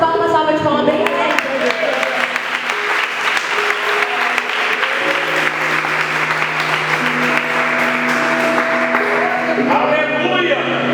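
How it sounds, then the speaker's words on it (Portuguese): A church congregation breaks into long, loud, sustained applause that fills the whole stretch, with sung or spoken voices carrying over the clapping. "Dê umas palmas, salva de palma bem grande."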